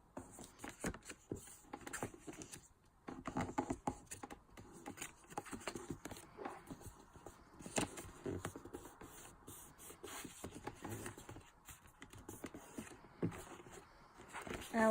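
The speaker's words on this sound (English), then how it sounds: "Now I'll start folding my net of the pyramid." Paper pyramid net for a school model being folded by hand, with irregular crinkles, creases and soft rustles at close range and no talking.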